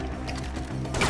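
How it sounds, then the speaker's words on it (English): Weapon swap in the shooter game Far Cry 4: a quick run of mechanical clicks and ratcheting metal handling, close and steady over a dense game background, with a louder burst at the end. "Switching weapons."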